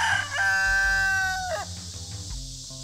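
A rooster on a backyard chicken farm crows once, near and loud, a drawn-out call that falls at the end, with low farmyard sounds and animal noise after it.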